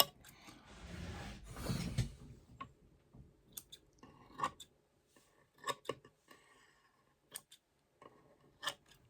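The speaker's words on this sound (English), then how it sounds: "then come in with my curved scissors, and if I got any flash rippled ice that's extending way past the edge," Curved scissors trim excess flash and rippled ice fibers from a tapered dubbing brush for fly tying, giving a brief rustling burst early on followed by a string of quiet, crisp individual snips spaced irregularly, close up and soft.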